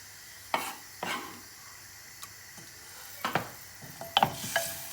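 Onion frying in oil with beef mince for Goan beef kheema patties, a faint sizzle broken by several sharp scraping stirs of the pan, with no talking.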